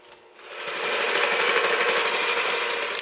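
Electric mixer working through cookie dough with lemon zest and dry ingredients folded in, a steady close whirring drone that builds after a quiet start and holds evenly to the end.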